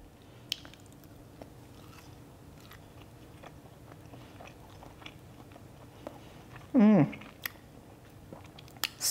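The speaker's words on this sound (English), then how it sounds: "have a little bite." A bite into a Croatian chevapcici sausage gives one short, sharp crunchy squish, followed by faint chewing over a quiet room.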